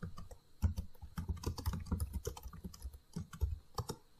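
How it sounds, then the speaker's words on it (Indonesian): Someone types a title on a computer keyboard while setting up an Excel spreadsheet, a close, steady run of quick key clicks with brief pauses and no talk. "Nah, langsung saja misalkan kita ketik judulnya."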